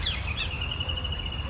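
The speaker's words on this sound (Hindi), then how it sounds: "चिड़ियों की आवाज़ आ रही है" Small birds chirp and call outdoors, with thin high tweets and trills running steadily over a low rumble of background noise, faint and somewhat distant.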